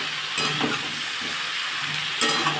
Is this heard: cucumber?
yes